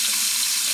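Warm water runs steadily into a baby's bath, a continuous bright hissing splash heard close up and on its own, with no voices over it.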